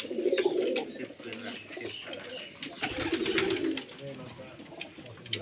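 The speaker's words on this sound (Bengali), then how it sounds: "এটা একটা গোরা কবুতর" Giribaj pigeons coo in a loft, a steady run of throaty, rolling coos from several nearby birds, with a brief stretch of soft chatter in the middle.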